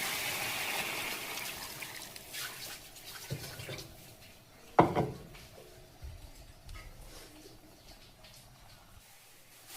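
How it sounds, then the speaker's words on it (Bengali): Water is poured into a cooking pot of browned fish curry base, giving a brief splashing rush midway, then quieter dripping and clinking in a home kitchen. "এখন পানি দিয়ে দেব।"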